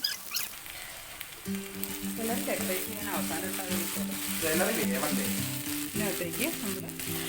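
Three or four chopped small onions sizzle and fry steadily in a pan while cooking Chinese-style aloo gobi, a close, continuous crackle with occasional stirring, under background music and a speaking voice.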